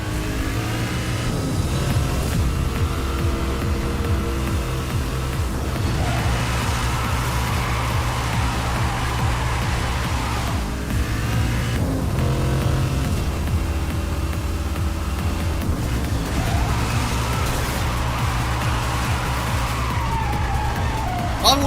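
A supercar tears along in a Need for Speed Hot Pursuit chase, its engine roaring and surging through gear changes while police sirens wail under it, loud and continuous for the whole stretch with no break.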